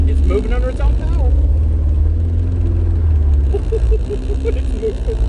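A 1987 Pontiac Fiero GT with a swapped Honda K20 engine, running a badly out-of-tune setup, creeping in reverse under its own power with a loud, steady low engine rumble while people talk excitedly over it.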